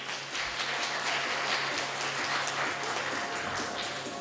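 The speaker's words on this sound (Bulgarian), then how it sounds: "Аплодисменти още веднъж, моля." Steady crowd applause fills the hall at an awards ceremony in Stara Zagora, following a majorette troupe's performance, with dense continuous clapping at moderate level and no talk.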